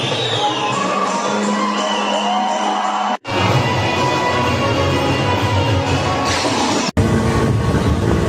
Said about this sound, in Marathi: तोंडावर अशी ही ट्रेन गेली आहे.